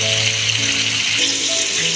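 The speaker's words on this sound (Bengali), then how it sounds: "মাছগুলো আমি ভালো করে ভেজে নেব সব মাছ আমি একসঙ্গে দিয়েছি আমি অনেকটা তেল দিয়েছি" Pangas fish pieces frying together in plenty of oil, a loud, dense, continuous sizzle close up, with faint tones in the background.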